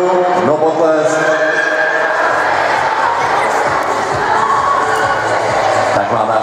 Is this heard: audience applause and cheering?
yes